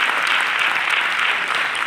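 An audience at a Ravindra Bharathi event claps in a dense, loud, continuous burst of applause for just under two seconds, with no talk over it.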